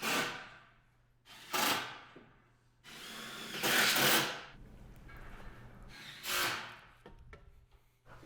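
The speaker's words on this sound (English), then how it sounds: "you're going to screw in on both sides on all 4 points of contact on that stair panel" A power drill drives tech screws into an aluminum stair railing panel, with several separate whirring bursts of a few seconds each and quiet pauses between them, heard close up.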